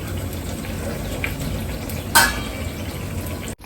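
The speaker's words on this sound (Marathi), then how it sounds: "हे बाबा फ्राय होते मस्त" Malpua sweet pancakes frying in oil, a steady close sizzle with a brief louder splash or scrape partway through and an abrupt cutoff just before the end; no one speaks.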